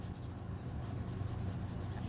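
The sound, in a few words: coloring in a dragon drawing by hand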